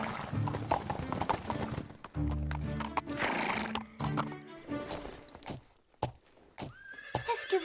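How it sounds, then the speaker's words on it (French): Cartoon horses in a children's show neigh and whinny loudly several times, while hooves clip-clop in quick bursts between the calls. Animated sound effects and some voices are mixed in with the horse sounds. "regarde les petits chevaux!"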